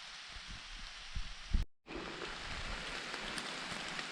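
Steady rain hisses softly on surfaces nearby, with a few low thumps and a brief cut-out partway through, faint and continuous.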